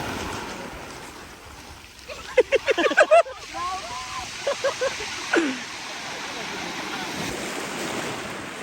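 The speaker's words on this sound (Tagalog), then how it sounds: "Ang lakas ng alon." Strong sea waves wash and rush in a continuous roar with wind buffeting the microphone, while people talk and shout over the surf.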